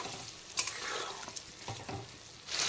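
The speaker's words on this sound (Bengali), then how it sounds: "এখন মশলাটাকে আবারও বেশ কিছুক্ষণ সময় নিয়ে পুরো কষিয়ে নেব।" Spice paste for a mutton curry with Malabar spinach is stir-fried in a pan, giving a steady close sizzle with scraping stirs throughout and no voices.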